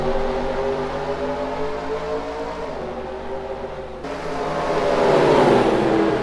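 V8 Supercars race cars accelerating away from a race start, a pack of loud engines droning and rising in pitch together, swelling louder toward the end as the field pulls away.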